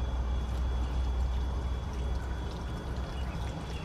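Water poured onto dry potted houseplants makes a steady, close splashing and trickle that runs unbroken for several seconds, with no talking over it.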